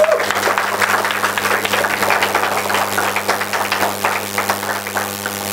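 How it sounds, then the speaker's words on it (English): Sustained audience applause fills the hall at an engineering college fest prize ceremony as a winner comes on stage, steady dense clapping throughout with a low electrical hum underneath. "Round of applause for her."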